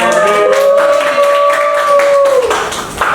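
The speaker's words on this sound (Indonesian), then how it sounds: "Bapak mau minta kalian semua buat tepuk tangan sama-sama saling mengapresiasi diri kalian" A grade 12 class claps together in appreciation, a steady spread of hand claps under a sustained tone that fades near the end.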